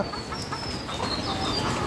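Chickens on a poultry farm raising Sonali hens, calling and clucking in a steady busy chorus, with overlapping bird calls close by and no talking.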